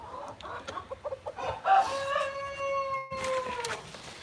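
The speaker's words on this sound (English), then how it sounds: "oh, the chickens are all fascinated" Chickens cluck in short bursts close by in a nest box, then one gives a long drawn-out crowing call, followed by more clucking.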